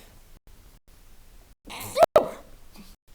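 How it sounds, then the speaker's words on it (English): A single sharp sneeze bursts out after a short quiet lead-in, loud and close, breaking into two abrupt explosive blasts before fading back to near silence. "oh, excuse me, I'm gonna sneeze."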